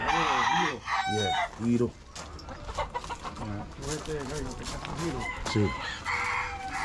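A rooster clucks and crows in loud bursts close by, with a few short spoken words between the calls.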